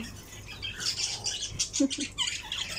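Several birds squawk and chirp at close range while busy feeding, a burst of raspy, overlapping calls with a few sharp accents and no talking.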